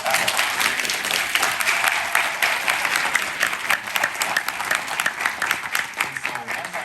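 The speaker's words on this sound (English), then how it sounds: "So we get a round of applause for that." An audience at a pop-up exhibit talk at Japan Society in New York gives a steady, full round of applause lasting several seconds, dense and even throughout.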